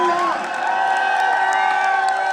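A large crowd at a festival speech event clapping, cheering and whooping loudly, with excited voices shouting over the steady applause throughout.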